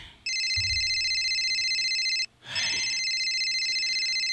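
A phone ringtone imitating an old landline telephone bell, two loud close bursts of rapid trilling ringing separated by a brief pause, with a low thump near the start.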